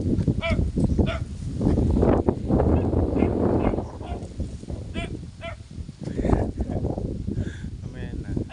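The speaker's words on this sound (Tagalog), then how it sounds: "Ang ingay ng aso." A dog barks and whimpers in short bursts, several yelps and whines scattered across the span, close by with wind noise and people talking over it outdoors.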